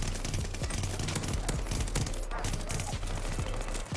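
Repeated bursts from an AS44 burst-fire gun in the Vanguard video game, a dense stream of quick, moderately loud shots over game background noise, with a faint voice now and then.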